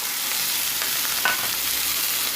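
Steady sizzling of vegetables, including chopped banana stem, sautéing in a pan, a continuous hiss with a faint stir or scrape partway through.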